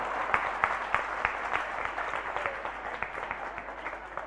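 A sermon audience bursts into steady, fairly close applause during Acharya Vidya Sagar Ji Maharaj's discourse, with dense overlapping claps and sharper individual hits sustained throughout.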